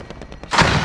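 Gunfire in the video game Call of Duty Warzone: a short rhythmic run of muffled shots, then a louder, dense burst of fire that fills the rest of the moment, with no talk.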